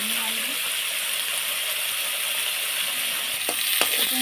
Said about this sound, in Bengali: আর একটু সময় ভাজা ভাজা হয়ে আসলে নামিয়ে আনবো।